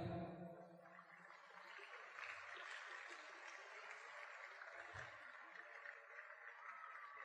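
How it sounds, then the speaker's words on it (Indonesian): Faint, distant audience applause at an Islamic religious lecture sounds as a soft, even patter of many hands that goes on for several seconds. "Tepuk tangan buat beliau"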